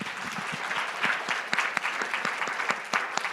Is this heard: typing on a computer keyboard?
no